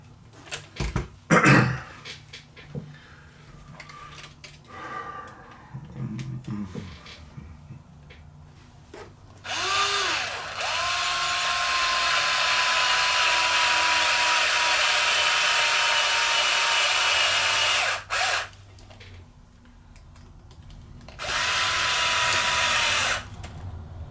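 A power drill drives servo screws into the axle mount of a moon buggy model. Short bursts of whirring lead into two long, steady motor drones separated by a brief pause, all close by.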